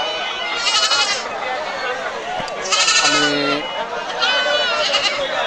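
Black Bengal goats bleat repeatedly at a crowded livestock market in Chatmohar, several near, loud cries rising over constant crowd chatter and someone talking.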